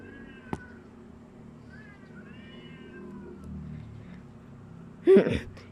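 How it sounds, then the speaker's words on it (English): Cats meowing and yowling in a caterwauling exchange, drawn-out wavering cries rising and falling over several seconds, with a sharp knock early on and a loud burst of yowling near the end. "Yo, what are these cats doing? What is going on?"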